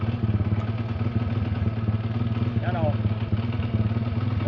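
A Yamaha motorcycle engine runs roughly with a rattling clatter. It sounds steady and close throughout, with a voice talking over it.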